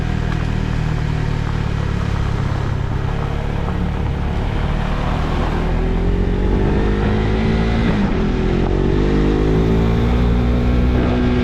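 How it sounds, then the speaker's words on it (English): Loud, continuous engine and road roar from busy Easter-weekend traffic on the Apache Trail in Arizona, a construction stretch where motors drone and rev steadily up close throughout. "traffic is actually tremendously busy"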